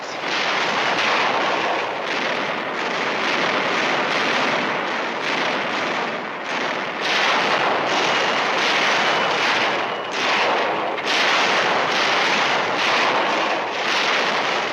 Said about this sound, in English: The naval bombardment continues.